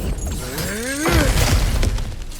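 Something shatters and breaks apart in God of War Ragnarök gameplay: a loud crash with crumbling debris, following a rising, swooping whoosh, with game ambience throughout.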